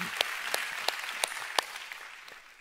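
A church congregation claps during a sermon. The claps are sparse and uneven, a few distinct sharp claps spaced apart rather than full applause, fairly quiet and fading toward the end.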